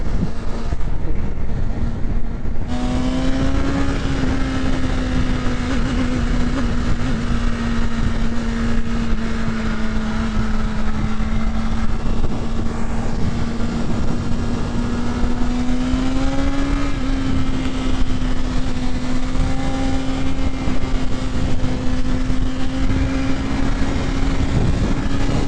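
A 2025 BMW S1000RR sportbike engine under way at a steady, loud, high-pitched drone. The pitch holds fairly even with small rises and dips, alongside heavy wind rush and no talking.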